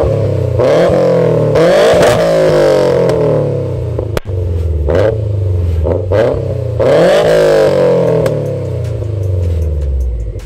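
A 2015–2021 Subaru WRX STI's aftermarket exhaust, with two Helmholtz resonators before dual mufflers, roars through repeated hard revs, pitch climbing and dropping, loud and close, with a sharp pop midway.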